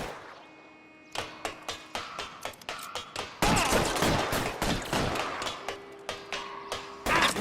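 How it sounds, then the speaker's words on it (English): Rapid suppression gunfire in the crime shooter L.A. Noire: a dense string of loud, sharp shots in quick bursts, running continuously with brief gaps and growing heavier midway. "I'll lay down the suppression fire."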